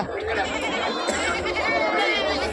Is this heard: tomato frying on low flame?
no